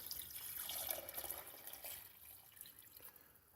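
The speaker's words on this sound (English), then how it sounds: "Okay, in goes the water." Water rushes into a cooking pot for a medieval-style stew broth, a soft, steady splashing pour that swells and then tapers off near the end, with no speech.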